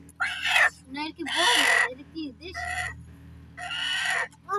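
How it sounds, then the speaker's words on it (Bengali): A chicken clucking and calling in short repeated bursts, close and fairly clear, with pauses between the phrases and a low background hum. "মুরগিটা আনছে আজকে"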